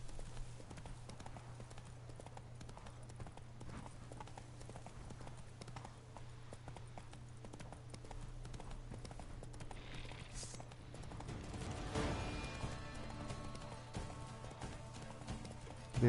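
Hooves clip-clop in a steady rhythm as the horse Roach gallops in The Witcher 3, a fairly faint patter over a low hum and game background sound.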